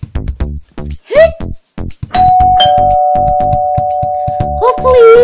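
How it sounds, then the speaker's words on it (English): A doorbell rings with a long sustained chime that fades slowly, heard over footsteps and a brief voice, with a second ring at the end. "Okay, time to ring the doorbell."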